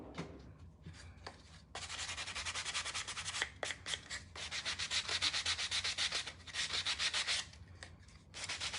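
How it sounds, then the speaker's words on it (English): A painted pumpkin lightly sanded by hand, with steady close scratchy rubbing strokes in rhythmic bursts and brief pauses between them. "what I'm gonna do is we're gonna sand it just a little bit"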